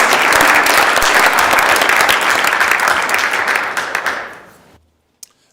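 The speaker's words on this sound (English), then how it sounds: "I'd like this body to give them a good round of applause" A senate floor session breaks into a hearty round of applause, loud, dense clapping from the chamber that carries on steadily, then thins and fades out, with one last stray clap after a brief silence.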